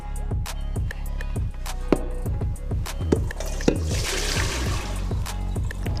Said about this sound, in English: We're getting those to drip all of the water.